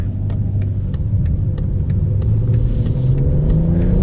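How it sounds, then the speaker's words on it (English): A BMW 540i with a turbocharged engine accelerates, its steady low rumbling drone heard from inside the cabin, with a faint, regular ticking running over the top. "So plenty of acceleration with those turbos."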